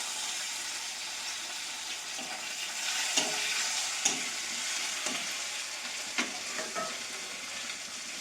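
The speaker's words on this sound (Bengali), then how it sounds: "তারপর দেব পাঁচফোড়নের পর দেব এই যে কাঁচা লঙ্কা কুচি আর দিয়ে দেবো টমেটো" Green chili and tomato frying in hot oil with panch phoron, giving a steady close sizzle with a few clinks and stirring scrapes along the way.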